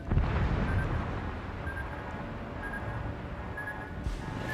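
Torpedo strikes on a battleship in a naval combat video game, two hits landing as a loud, rumbling blast that rolls on through a sustained low roar with faint tonal game sounds above.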